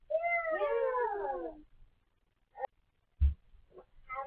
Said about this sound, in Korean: 고양이